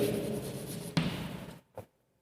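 Pen writing on paper during a class maths lesson, a close continuous scratching stroke with a tap partway through, then a brief final stroke before silence.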